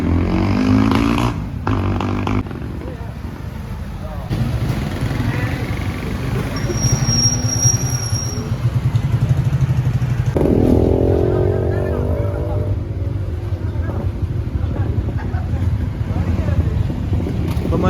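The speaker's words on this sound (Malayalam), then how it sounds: "നമ്മൾ ഓരോ വണ്ടികൾ ഇങ്ങനെ ബൈക്ക് വന്നുകൊണ്ടിരിക്കുകയാണ്" Motorbikes riding along a village road in Kerala ahead of a bull race procession; engines rumble close and pass one after another with wind buffeting the microphone, and people talk over the traffic.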